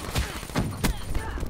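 Shotgun blasts in Black Ops 3, several sharp broadband bursts spaced irregularly over the clip, fairly loud amid game noise with talk in the background.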